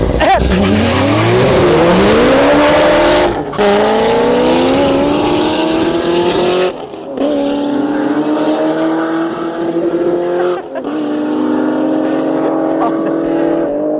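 Powerful cars, a 900 hp Corvette ZR1 and an 800 hp BMW Z3, launch from a standstill in a drag race with roaring engines climbing through the gears, loud and close, with tire squeal and a crowd voice underneath.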